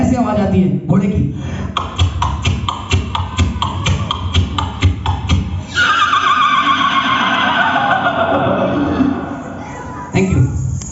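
A person imitates a horse with a rhythmic series of clopping clicks, then a long, wavering whinny-like neigh, loud and close.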